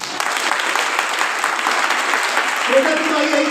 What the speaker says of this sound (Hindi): उसकी ताली बजा दो यार।